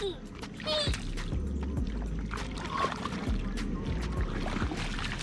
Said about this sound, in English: Oh, you splashed me.